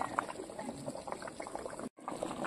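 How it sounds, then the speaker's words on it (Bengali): Desi chicken curry broth bubbling in a pot, a steady close simmer of small bursting bubbles with a brief dropout near the end, no talk. "ঝোলটাও খুব সুন্দর ফুটছে"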